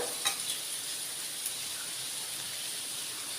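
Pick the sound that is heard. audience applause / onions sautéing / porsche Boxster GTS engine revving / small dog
onions sautéing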